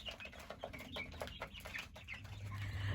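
Chickens cluck and squawk near at hand while being fed, a busy scatter of short calls over a low background rumble.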